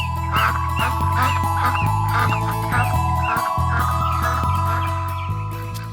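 A cartoon goose in an animated fairy tale honks repeatedly in a quick, rhythmic series over a loud musical background.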